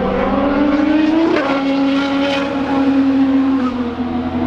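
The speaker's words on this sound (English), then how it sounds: "We're watching some Indy cars today." An IndyCar on a test day at Laguna Seca Raceway screams past, its loud engine whine rising, then dropping in pitch as it passes close by and holds a steady drone as it pulls away.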